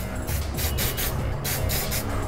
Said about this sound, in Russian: короткими пшиками начинаем его распылять на наш литничок